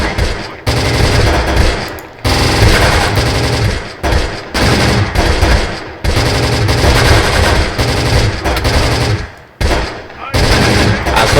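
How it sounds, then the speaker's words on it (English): Ammunition cooks off in a burning vehicle in the wartime strategy game Close Combat The Bloody First, heard as loud, dense, rapid popping bursts in long stretches with short pauses. "you can hear that fucking ammo just going."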